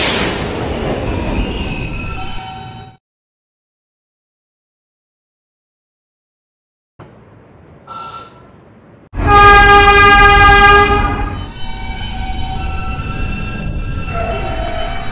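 An R160 E subway train runs on its tracks toward 57th Street, loud rumbling and squealing wheels that drop out to silence for several seconds, then return with a sharp high-pitched screech and steady rolling noise.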